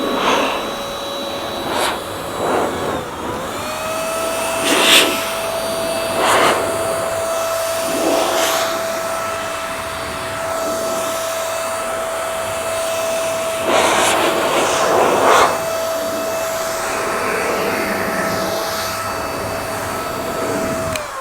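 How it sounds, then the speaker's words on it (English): A Blo Air S body dryer blows air with a continuous loud whooshing roar and a steady motor whine, keeping going for about twenty seconds, with brief swells where the airflow shifts. "first time using it, I've got no idea how well it's going to work or how noisy it's going to be"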